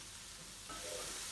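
Onion and rinsed tinned lentils sautéing in a pan, a soft steady sizzle that swells louder partway through as food hits the heat, with no voices.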